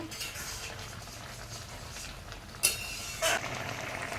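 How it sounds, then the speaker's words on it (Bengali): Pineapple pickle cooks down in a pan, giving a soft bubbling simmer, and two sharp spoon-on-metal clinks of stirring ring out near the end. "জলটা শুকনো হওয়া পর্যন্ত নেড়ে যাব"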